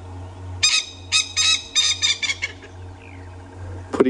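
A Coqui francolin calls in the wild on a safari dawn game drive, a loud close series of harsh rhythmic phrases in quick bursts, then a brief sharp note near the end, over a low engine-like hum.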